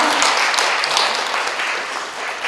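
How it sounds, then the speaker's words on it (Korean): Dense, steady applause fills a community opening event in Dobong district, welcoming a district council member to the stage. The clapping is close and loud, sustained throughout without easing off. "힘찬 박수로 맞이해주세요."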